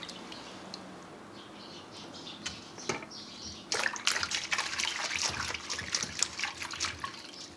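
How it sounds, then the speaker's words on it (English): Close, quiet water splashes and trickles as hands handle a chili in water, sparse at first and then a busier stretch of dripping and sloshing. "Can you hear ASMR inducing water splashing when I touch Chinese Asian penis sized chili?"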